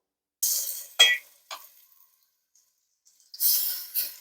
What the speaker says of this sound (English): Okay, so I am frying some of the chicken.